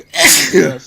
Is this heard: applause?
no